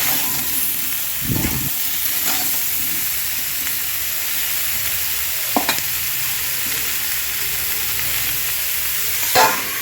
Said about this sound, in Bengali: তো এটাকে আমি লবণ দিয়ে ভালো করে ভেজে নেব